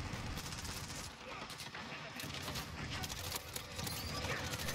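Dense, continuous gunfire from the video game Modern Warfare, with rapid bursts and explosive cracks layered loudly throughout, and voices talking over the shooting.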